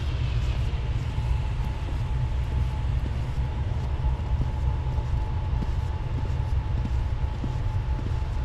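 A BNSF commuter train rolls past on the Chicago subdivision during a snowstorm, a loud, continuous low rumble with steady wheel noise and a faint tonal hum throughout, close by and unbroken.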